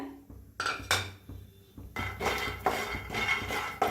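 Peanuts being dry-roasted in a pan on a gas stove, giving repeated metallic clinks and scraping knocks of a spoon against the pan, close and fairly loud, with no talk.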